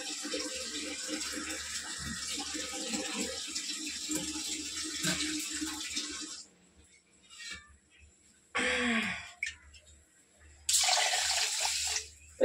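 Water running from a tap fed by a tank, a steady rushing stream for several seconds that cuts off, then brief bursts of flow and splashing, close and fairly faint.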